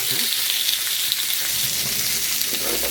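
Food frying in a pan gives a steady, close hiss and sizzle that runs unbroken for a few seconds, with no talking.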